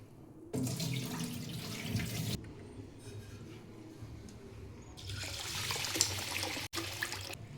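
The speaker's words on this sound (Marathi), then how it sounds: "2-3 पाण्याने धुवायचे आहेत तांदूळ." Rice is rinsed in water in a home kitchen. Two bursts of rushing, splashing water pour and swirl close by, with a quieter stretch of gentle sloshing between them.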